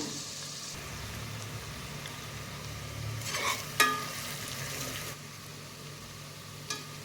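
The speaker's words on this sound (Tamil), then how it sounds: "வெங்காயம் பொன்னீரம் வர வரைக்கும் வதக்கிக்குவோம் சீக்கிரம் வதங்கிறதுக்கு கொஞ்சம் உப்பு சேர்த்துக்குங்க" Chopped onions sautéing with salt in a pan, cooking down for a homemade chicken biryani masala, giving a soft steady sizzle and stirring scrape, with a few brighter clinks of a utensil against the pan partway through.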